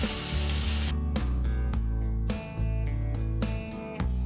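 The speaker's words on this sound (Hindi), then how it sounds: "अब हम इसमें डालेंगे बारीक कटा हुआ टमाटर" Finely chopped tomato hits a hot pan of spices with turmeric and garam masala for a sprouted moong curry, giving a loud, steady close sizzle broken by rhythmic stirring scrapes and brief dips in intensity.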